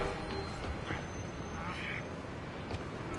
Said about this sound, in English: Ha! A pigeon.